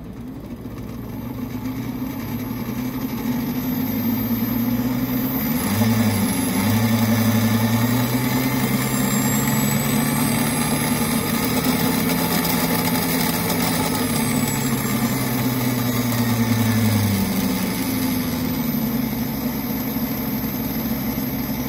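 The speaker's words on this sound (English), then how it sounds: "Notice that the motor is idling right now." A BBSHD mid-drive e-bike motor running on 55 volts with an ASI BAC800 controller, idling with a steady close whine and hum that dips and rises in pitch a few times, continuous with no talking.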